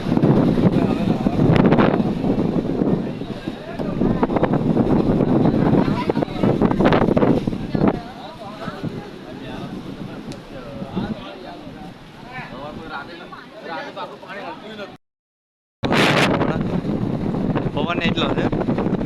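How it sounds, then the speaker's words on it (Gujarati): Strong wind at the Dwarka seashore buffets the microphone with a loud, steady roar under people talking, easing slightly midway, cutting out for about a second near the end, then returning. "પવન એટલો છે"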